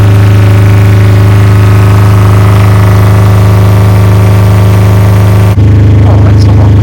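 A boat's diesel generator idles loudly and steadily with a deep hum, then its tone drops and quietens near the end as a cover goes back on.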